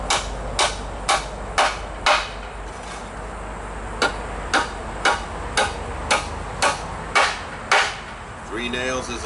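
Repeated sharp hammer blows driving nails into wood for a sawhorse, about a dozen evenly spaced knocks, close and loud, with a brief shuffle at the end.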